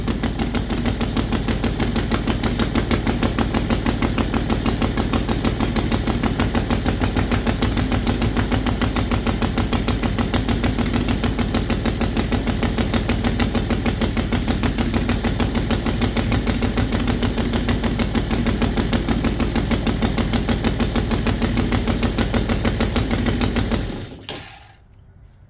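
Saito FG90R3 model engine idling during break-in, a steady, close and loud rapid buzzing drone that holds evenly for over twenty seconds, then cuts off abruptly.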